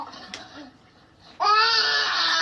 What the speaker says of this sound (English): That is a child crying.